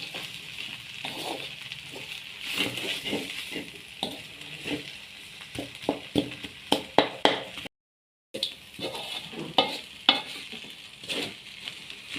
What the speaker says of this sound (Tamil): இப்போ எல்லாத்தையும் மிக்ஸ் பண்ணுவோம் இப்போ நம்ம செய்து வச்ச சிக்கன் கிரேவியையும் சேர்த்து கொள்ளுவோம்